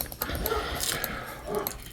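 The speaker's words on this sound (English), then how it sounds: "I have dogs that have interrupted my story." Dogs interrupting a storyteller at home in County Antrim, heard as short, muffled barks and whimpering scattered through the moment, fairly faint and in the background with no talk.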